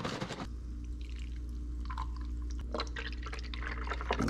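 MicroGreene micronutrient liquid pouring into an Ortho Dial N Spray hose-end sprayer bottle for a St. Augustine lawn, a steady trickling, dripping flow lasting several seconds, close up with no talking.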